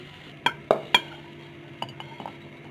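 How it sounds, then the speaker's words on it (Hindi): Korean-style chicken pakora being dished out of a pan into a serving bowl, with three sharp utensil clinks against metal close together, followed by softer scrapes and taps over a faint background hum. "अब हम इसे किसी बर्तन में निकाल के तो इसे सर्व कर लेंगे।"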